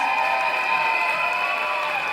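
An audience at a school annual day celebration applauds the performing children, a continuous wash of clapping and crowd noise at an even level throughout, with a steady tonal hum running underneath.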